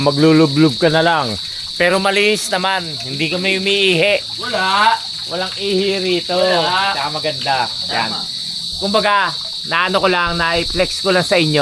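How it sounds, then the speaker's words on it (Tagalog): Crickets chirp outdoors in a steady high shrill drone, heard close and loud under constant casual talk from several voices. "Kuliglig na yan."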